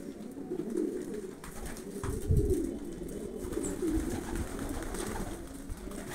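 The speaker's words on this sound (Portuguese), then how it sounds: "Mostrando os pombos revoando no céu." Pigeons over a city at dusk, with soft cooing bird calls and a steady low background murmur, a few brief louder bursts suggesting wings or nearby movement.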